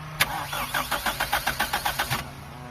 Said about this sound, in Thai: เดี๋ยวเราทำการสตาร์ทนะครับเครื่องยนต์